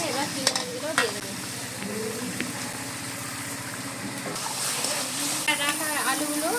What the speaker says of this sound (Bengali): মশলা কষা হয়ে গেছে, এবার চিংড়ি মাছগুলো দিয়ে দেবো।